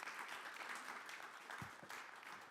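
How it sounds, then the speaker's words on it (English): Audience applause at the International Vienna Energy and Climate Forum session, steady clapping from many hands filling the room throughout, with no voices over it. "Maybe a little applause from the public."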